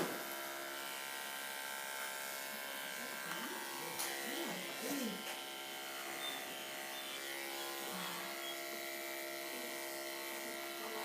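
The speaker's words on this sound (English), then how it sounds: "I'm going to shave up the prepuce area very carefully" Electric clippers fitted with a 40 blade buzz steadily while shaving the prepuce area of an animal during an exam procedure, a continuous mid-level hum with people talking over it.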